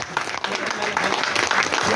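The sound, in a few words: audience applause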